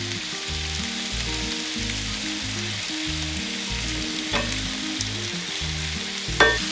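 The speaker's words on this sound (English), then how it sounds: "get that sausage frying up in it" Sausage frying on a Blackstone griddle, a steady close-up sizzle with crackling fat and a couple of sharper pops and scrapes near the end.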